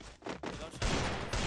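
Rapid gunfire from a USP pistol in a video game, loud bursts of shots crackling close up in two clusters, with a player's voice talking over the shooting.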